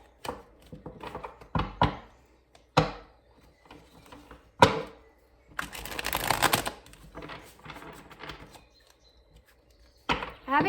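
Tarot cards being shuffled by hand, a run of crisp riffling and tapping bursts separated by brief pauses, close and moderately loud with no talking.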